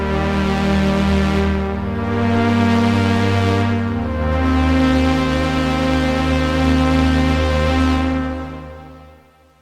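Retro-style synth pad chords from the Serum synthesizer, sustained tones changing every couple of seconds at a steady level, then fading out at the end, with no talking over them.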